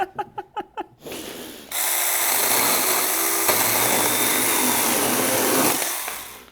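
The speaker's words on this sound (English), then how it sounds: "This is the Saker chainsaw." A Saker mini chainsaw roars steadily at close range after a few quick pulls or clicks, holding a loud, even motor whine for several seconds before cutting off.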